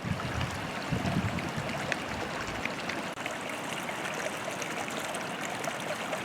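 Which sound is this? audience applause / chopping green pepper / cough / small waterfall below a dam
small waterfall below a dam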